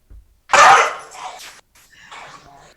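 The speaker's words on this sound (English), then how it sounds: "Some of the dogs in the area kind of go a little bit wild." Dogs bark in a short burst, one loud close bark followed by a few fainter barks and yelps, with no talking over them.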